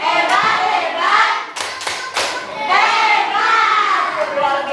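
A class of children claps out a rhythmic cheering chant led by a teacher, with bursts of clapping and young voices chanting together in quick patterned beats.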